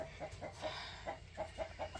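Chickens cluck softly in a backyard coop with sand flooring, a quick run of short, close clucks repeating every few tenths of a second over a faint background hum.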